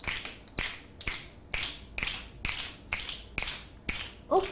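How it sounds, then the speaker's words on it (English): Fingers snap in a classroom activity, about ten crisp snaps in a steady rhythm roughly half a second apart, close and clear with no voices. "Snap your fingers."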